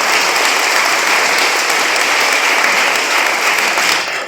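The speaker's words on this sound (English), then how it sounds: "Let's give them a round of applause for hosting this event tonight" An audience at a mayoral debate applauds the Sherwood Chamber of Commerce, loud, dense clapping that holds steady for about four seconds before starting to fade.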